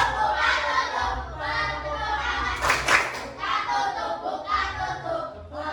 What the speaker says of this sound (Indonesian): Tepuk tangan saya